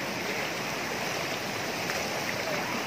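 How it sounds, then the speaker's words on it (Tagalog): A strong river current rushes during a typhoon, a dense, continuous roar of fast-moving water heard close by. "Ay, wala malalim. Malakas yung agos."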